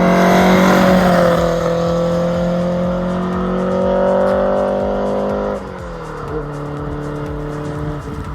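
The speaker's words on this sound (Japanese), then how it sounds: "エンジンがちっちゃい割にはすんげえ音だね。" A Toyota AE86 with a 4A-GE 20-valve 1.6-litre engine revs hard on a rural American road. The high, loud, close engine note is sustained, then drops sharply as the revs fall.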